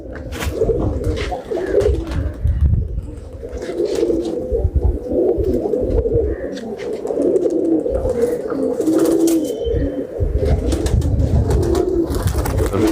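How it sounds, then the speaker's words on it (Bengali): Pigeons, racing birds kept for sale, coo steadily and close by in a continuous, layered murmur of overlapping throaty calls, with a few faint chirps above. "অনেক চমৎকার একটা কবুতর তো"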